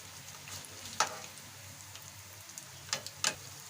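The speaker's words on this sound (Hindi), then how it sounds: "डीप फ्राई हो रहे हैं, कुछ सुर्ख होने तक डीप फ्राई करेंगे।" Bread pieces deep frying in oil for shahi tukray, a faint, steady low bubbling sizzle with a few sharp crackles and spits standing out near the end.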